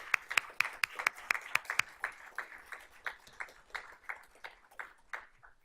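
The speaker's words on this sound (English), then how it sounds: "So let's give Miss White a round of applause" At a board of trustees honors meeting, a small audience applauds a scholarship recipient, with distinct, close claps in a quick rhythm that thin out and fade toward the end.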